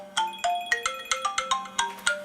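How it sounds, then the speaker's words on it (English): An iPhone rings with an incoming call, its bright marimba-like ringtone repeating about nine quick chiming notes in a steady, clear pattern with nothing else heard. "My iPhone is also ringing, but I'm going to answer it on the iWatch"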